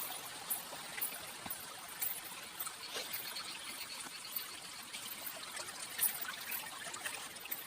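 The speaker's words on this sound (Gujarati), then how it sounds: "અમારા ખેતરમાંથી પાણી આવે છે વાયામાં જાય છે" Rainwater from a farm field trickles and gurgles steadily into a channel at low volume after heavy overnight rain, a quiet continuous flow with faint splashy ripples and no voices.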